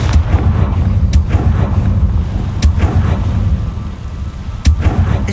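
The Confringo blasting spell goes off in Hogwarts Legacy as a string of loud, close booming explosions that thud repeatedly over a rumbling background.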